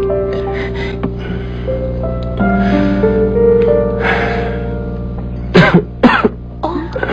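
A person coughs several times in harsh, close bursts, with a throat clear and gasping breaths mixed in, over a sustained musical background.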